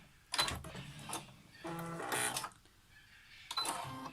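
A sewing machine back stitching a cloth face mask runs in a few short, fairly quiet bursts of rapid mechanical clatter separated by brief pauses.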